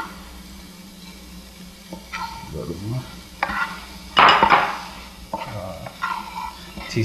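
A spoon stirs a vegan mushroom cream stroganoff in a pan, with soft scraping and swishing, occasional clinks of utensil against metal and one louder clatter near the middle, plus a faint sizzle underneath.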